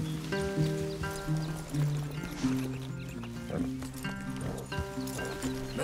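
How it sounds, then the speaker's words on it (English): Horses in Red Dead Redemption 2 clop and shift about as tonal music plays, with character dialogue in the scene. "Leave the horses in the trees there."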